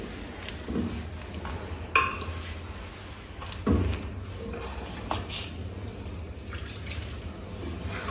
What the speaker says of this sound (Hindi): अब हम इसमें थोड़ा थोड़ा पानी मिलाएंगे